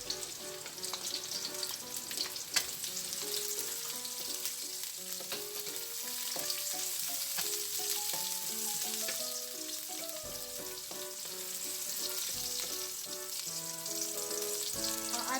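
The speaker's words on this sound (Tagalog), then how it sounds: "at isutay natin ang ating garlic. Dagdag na rin natin ang ating onion." Garlic and onion sauté in a hot pan for a luncheon meat bihon guisado, giving a steady close sizzle, while music plays loudly over the top throughout.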